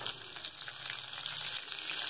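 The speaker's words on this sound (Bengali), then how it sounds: "লঙ্কাটা ফোড়ন দিলাম," Dried chilli tempering in hot oil for a Bengali tangra fish curry with eggplant and cauliflower, giving a steady, close, bright sizzle that holds evenly throughout with no voices.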